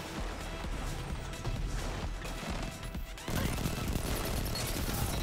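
Auto rifle gunfire from Destiny 2 PvP, a dense continuous burst of rapid shots with crashing impacts, loud and sustained throughout, jumping even louder in the final seconds.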